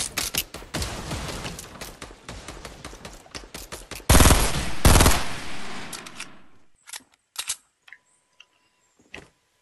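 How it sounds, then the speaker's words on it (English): Rapid automatic gunfire in a shooter video game, with dense bursts close by that grow louder for a moment and then break into a few scattered single shots as the fighting dies down. "On your left, Rimmon, someone's shooting you."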